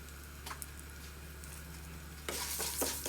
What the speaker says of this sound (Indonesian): Kemudian ditumis sampai sedikit kecoklatan.